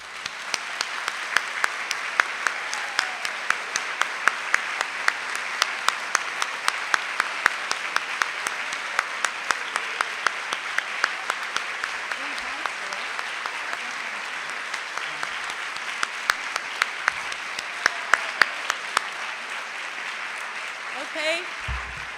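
A conference audience gives award recipients a long, steady round of applause, continuous mid-level clapping with a few sharper individual claps standing out, lasting over twenty seconds.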